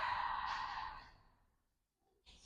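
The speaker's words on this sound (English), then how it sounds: "Open your mouth and exhale" A long, breathy exhale pushed out through an open mouth during a yoga flow, loud and close for about a second before fading into silence, with a faint breath returning at the end.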